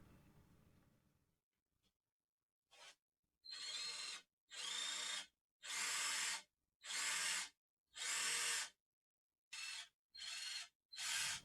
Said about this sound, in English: I'm hooking up the Bauer battery, which is a 20 volt 5 amp hour battery, just to make sure that this jigsaw runs